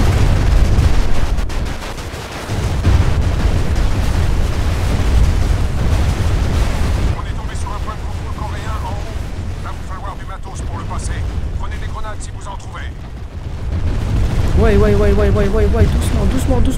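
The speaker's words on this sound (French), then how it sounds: "c'est vrai que j'ai rarement vu une explosion comme ça, frère" A massive video game explosion roars as a loud, sustained low rumble that churns for many seconds and then swells again near the end, with excited voices talking over it throughout.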